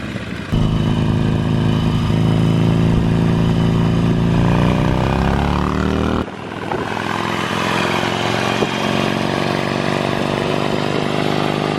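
A Harley-Davidson Sportster motorcycle engine rumbles loud and close while riding, its pitch climbing and sliding between gears with a brief dip midway, alone without talk.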